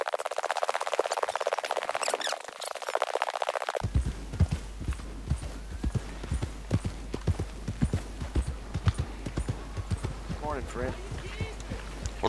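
Horse hooves clip-clop in a steady run through Red Dead Redemption 2 gameplay, a dense rhythmic patter of many quick strikes beneath game ambience, after a brief stretch of louder mixed sound at the start.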